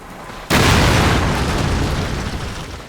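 A bomb detonating in the Call of Duty battle at Ponyri, one sudden loud close blast after half a second of low background, followed by a long rumbling decay.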